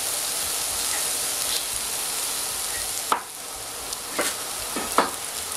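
Onion frying in a pot on the stove, a steady soft sizzle with a few brief scrapes and clinks of stirring, no voices.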